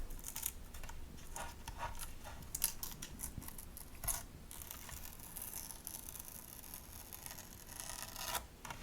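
Paper being torn by hand for a mixed media craft project, a faint soft rustling and ripping with a few brief sharper tears, close and quiet with no talk.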